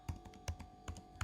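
Rapid keystrokes on a computer keyboard, a quick burst of close, crisp clicks in an uneven rhythm, with no voices.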